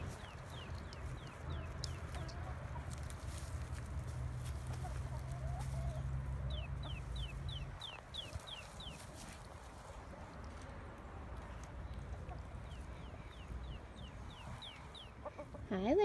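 Leghorn chickens cluck near a new chicken coop, with repeated short calls coming in bursts over a steady low rumble of background noise.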